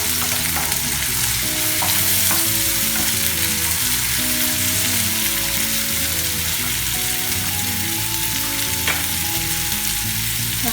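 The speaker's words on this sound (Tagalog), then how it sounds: "So same pan, so we have to saute the garlic. And then onions." Garlic and onions sizzle steadily in a hot pan, a continuous close frying hiss with occasional stirring, running under tonal background music.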